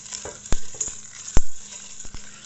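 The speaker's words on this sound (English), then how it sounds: "the easiest way to collect these seeds is just scrunch it all up in your hands and collect it all into a bowl" Dry seed pods crushed and scrunched by hand over a bowl, a few sharp crackling snaps standing out from quieter rustling, close up and without speech.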